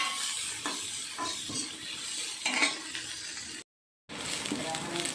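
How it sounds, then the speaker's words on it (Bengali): Onions being stirred and fried in a pan for a pumpkin-leaf mash, a steady close sizzle with scraping stir strokes throughout, briefly cut to silence near the end. "পেঁয়াজটাও একটু ভালো করে নেড়ে নিচ্ছি লাল লাল করে ভেজে নিচ্ছি"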